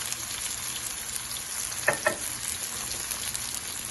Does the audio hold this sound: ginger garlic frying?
yes